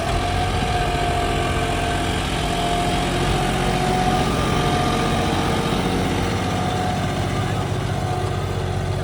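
A John Deere 5210 tractor with radial tyres runs steadily nearby, a continuous low chugging drone with no breaks.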